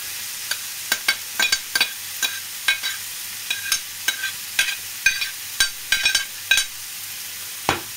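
Onion, spring onion and red pepper fry in a pan, giving a steady sizzle with irregular sharp clicks and pops from stirring close by, with no talking.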